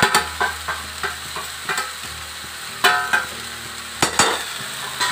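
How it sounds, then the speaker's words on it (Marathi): A drumstick flower stir-fry with crushed peanut powder is stirred in a pan, a soft sizzle under a series of sharp spoon scrapes and taps at uneven intervals, close and moderately loud. "शेंगदाण्याचं कूट घालून हलवून घ्यायचं चांगलं।"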